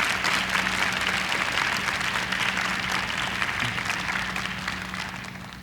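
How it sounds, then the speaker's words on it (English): Sustained, dense applause from a large crowd at a high school graduation ceremony, honoring graduates' families and teachers, steady and loud throughout with a faint low hum beneath. "a round of applause as a sign of their appreciation for all the time and effort these people have"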